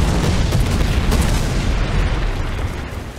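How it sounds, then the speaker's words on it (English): Rocket explosions in the War Thunder video game, heard as a dense, continuous rumble of booms and bursts that stays loud throughout and thins slightly toward the end. "Here comes some rockets from something."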